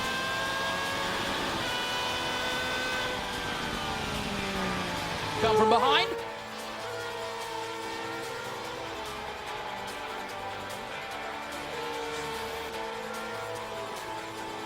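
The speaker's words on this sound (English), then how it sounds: "You can hear him going through the gears." A Superleague Formula race car in qualifying at Jerez climbs and drops through the gears, its engine note sweeping upward then settling into a steadier drone, heard beneath continuous commentary from a race announcer.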